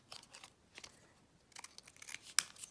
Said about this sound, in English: I cut one of the larger frames diagonally